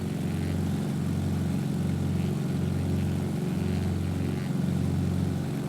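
A propeller airplane engine in the video game Microsoft Flight Simulator 2020 drones at a steady, loud pitch with a slow rhythmic pulsing and no talk.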